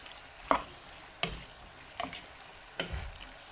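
Peppers and onions simmer in a pan with a little added water, giving a soft steady sizzle broken by four distinct stirring scrapes spaced about a second apart, close and quiet.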